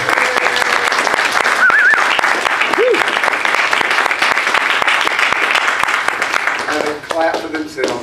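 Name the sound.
church congregation applause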